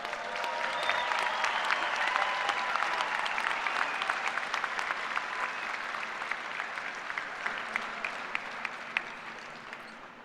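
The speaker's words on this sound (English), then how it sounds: "Let's give our graduates another nice round of applause." A large crowd at a university agriculture commencement ceremony applauds the graduates, a full, sustained clapping that stays loud and gradually eases toward the end, with no talking.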